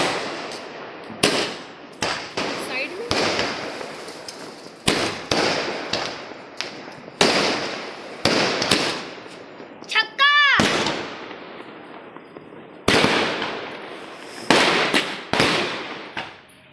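Fireworks shots go off at a household celebration on Bhai Dooj day, a string of sharp, loud cracking bangs at uneven intervals. One whistling rocket rises in the middle, and voices are heard between the blasts.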